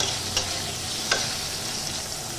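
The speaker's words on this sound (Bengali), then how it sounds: "এবার এটাকে আমি একটু নাড়াচাড়া করে নেব" Lengthwise-cut potatoes with salt stirred in a kadai: a steady, close frying sizzle with two or three brief spoon scrapes, no voices.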